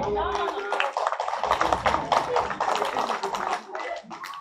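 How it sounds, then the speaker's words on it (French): Audience applause at a fashion dance show, a dense wash of many hands clapping steadily for about four seconds, fairly close and fading slightly at the end, with voices mixed into the crowd. "qu'on peut applaudir"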